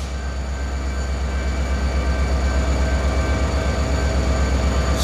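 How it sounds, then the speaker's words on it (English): The EMD prime mover of a CSX diesel locomotive drones with a deep, steady throbbing rumble and faint mechanical whine, loud and continuous as it works nearby. "Listen to that prime mover."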